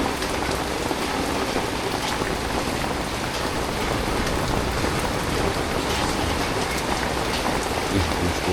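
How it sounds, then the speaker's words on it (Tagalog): Steady rain falls without pause, a dense, even hiss of drops on surfaces that holds at one level throughout with no voices. "Mahirap magkikilos pag ganitong panay ulan."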